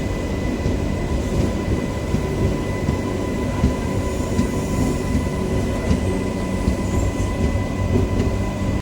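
A Kachiguda–Raichur MEMU train pulls out of Marikal railway station after a one-minute halt, its steady loud rumble of wheels and carriage noise continuous throughout.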